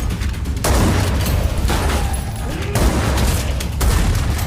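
Rapid gunfire from an action film scene, with two men spraying shots indiscriminately at a group; loud, dense bursts with heavy low booms run continuously for several seconds over a thick rumbling soundtrack.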